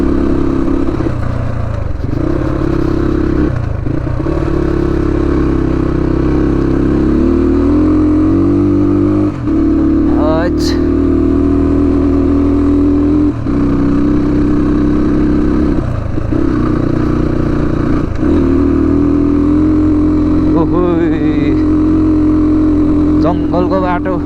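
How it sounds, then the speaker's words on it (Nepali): A motorcycle engine drones steadily and strains as it climbs a steep mountain forest road at high altitude, its loud hum shifting pitch with occasional clatter, while a rider talks over it throughout. "बाइकले तान्नै छोडिसक्यो क्या अब यहाँ हाई एल्टिट्युड लाग्यो क्या"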